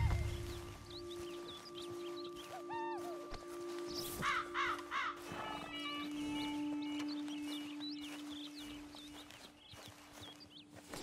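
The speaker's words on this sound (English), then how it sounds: "I thought I saw some scavenger birds over here." Scavenger birds caw repeatedly in Red Dead Redemption 2, with sharp, scattered calls over a steady outdoor game ambience and a few soft hoof clops.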